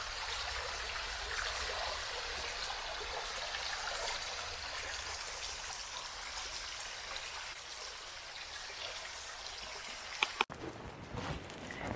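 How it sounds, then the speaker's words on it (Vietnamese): A small stream along a forest waterfall trail in Auckland babbles in a continuous close rush, steady for about ten seconds before cutting abruptly to a quieter, duller background near the end. "là tiếng suối, là cái con suối nhỏ chảy này"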